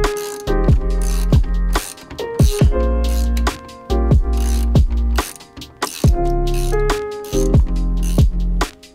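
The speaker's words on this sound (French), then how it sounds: "je vais commencer par serrer ce gros écrou de 17" A ratchet tightens a 17 mm nut on the rear axle of a Mazda MX-5 during rear suspension assembly, loud close bursts of rapid clicking that start and stop repeatedly with brief pauses between strokes.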